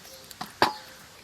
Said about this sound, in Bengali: আলু কেটে নেব।